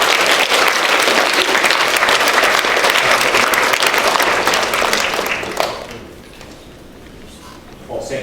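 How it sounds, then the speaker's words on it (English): An audience at a university alumni club panel discussion gives steady, dense applause that fades out after about five seconds, leaving a quiet room with a few last scattered claps. "And a round of applause, please, ladies and gentlemen, for the Vice-Chancellor."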